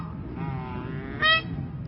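A baby imitates a duck, making soft nasal quacking noises over a hissy room background, ending with one louder, brighter honk-like quack near the end.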